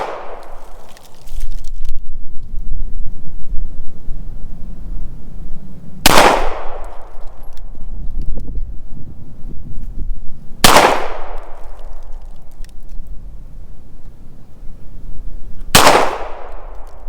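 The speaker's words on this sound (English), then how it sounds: "I'm going to shoot the M9A3 with my standard M9 magazine" A Beretta M9A3 pistol fires on an outdoor range: three loud, sharp single shots, several seconds apart, each ringing into a short decaying echo over a steady background of wind and rumble.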